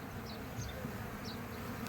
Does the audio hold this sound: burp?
no